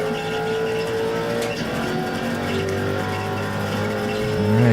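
Race cars in the iRacing GTC racing game, one of them a Miata, drive through a turn with a steady loud engine drone and rising revs, under a commentator's voice.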